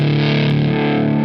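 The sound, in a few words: lap steel guitar through Tungsten boost pedal, volume up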